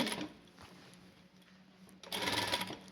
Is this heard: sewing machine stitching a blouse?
yes